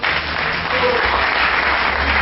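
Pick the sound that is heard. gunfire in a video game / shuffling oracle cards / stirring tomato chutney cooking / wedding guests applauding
wedding guests applauding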